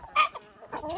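Hens and turkeys clucking briefly at feeding time over scattered bread, a couple of short close calls with a quieter gap between them.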